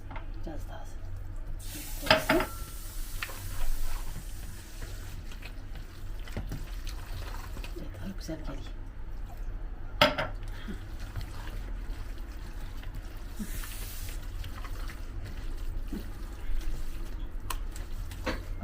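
Water trickles into gözleme dough and is worked in by hand, a soft, steady liquid sound with faint stirring, broken by a few sharper knocks, all fairly quiet throughout.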